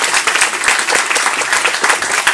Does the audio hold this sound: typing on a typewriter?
no